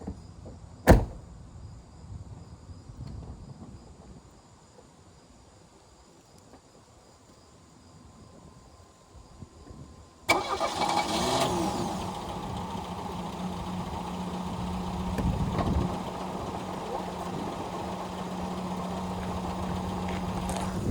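An old pickup truck that sat untouched for four to five years, refuelled with fresh gas and fitted with a new battery, stays quiet for about ten seconds, then abruptly fires up and settles into a steady, close running rumble.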